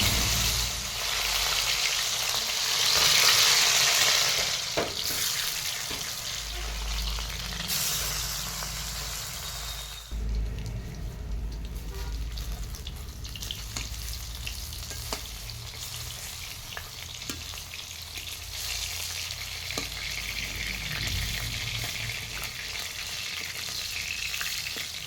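Batter-coated bottle gourd leaves fry in hot oil, a continuous close hissing sizzle with bubbling, louder at first, then settling into a steadier crackle with occasional clicks of a utensil.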